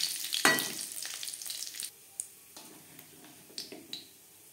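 Panch phoron five-spice and dried red chillies hit hot oil left over from frying lentil bori for a vegetarian spinach curry, bursting into a loud sizzle that settles into a steady fry with scattered pops and clicks.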